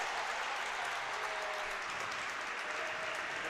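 Steady applause fills a women's handball match arena as the team claps toward the crowd, a dense, even clatter of many hands holding at moderate loudness throughout with no clear talk over it.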